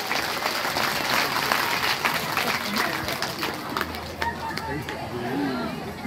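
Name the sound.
audience clapping at religious gathering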